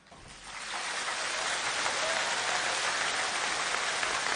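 Thunderous applause for Lee Hsien Loong's last major speech as Singapore's Prime Minister rises quickly from quiet into a dense, sustained roar of clapping from a large crowd, steady and loud throughout.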